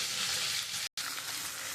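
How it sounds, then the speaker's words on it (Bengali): Pointed gourd pieces frying in a pan hiss with a steady, fairly quiet sizzle, cut by a split-second gap, with no voices. "আমার পটলগুলো ভাজা হয়ে এসছে, আর একটু লাল করে ভাজতে হবে।"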